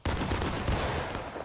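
Dense musket volleys crack out in a continuous, overlapping burst during an American Civil War–era battle reenactment, loud and close with shots tumbling over one another for the full stretch.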